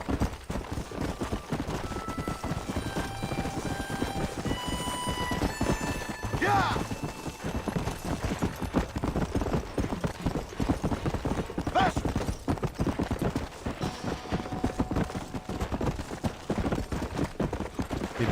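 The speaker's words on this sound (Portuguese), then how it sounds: "O Guerra é o melhor cavalo do jogo." A horse gallops in Red Dead Redemption, its steady clip-clop hoofbeats running continuously over a busy game soundscape with occasional brief tonal effects.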